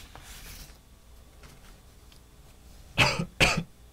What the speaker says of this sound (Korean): 지금 목이 너무 건조해가지고 자꾸 네. 기침을 해가지고 죄송합니다.